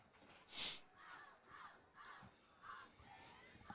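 Home crowd at a high school football game, Sylvan Hills Bears at Jonesboro Hurricane, roars in a sharp loud burst of shouting and cheering, then continues as a rolling, swelling murmur with repeated surges of voices.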